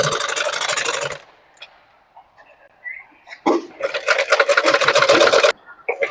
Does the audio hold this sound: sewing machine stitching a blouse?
yes